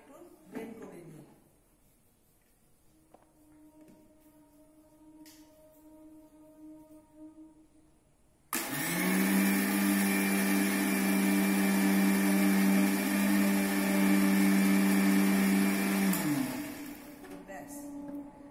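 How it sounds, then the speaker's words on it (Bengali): An electric blender whirs loudly for about eight seconds as it blends cold coffee with sugar, starting abruptly and cutting off sharply, after some quieter handling noises. "আরেকটু ব্লেন্ড করে নিই"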